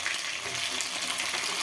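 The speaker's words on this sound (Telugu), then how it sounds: "ఇప్పుడు మనం క్యాప్సికమ్ వేసేసుకుందాము." Capsicum pieces fry in hot oil in a pan with a dense, even sizzle and faint stirring scrapes, steady and close for the whole short stretch.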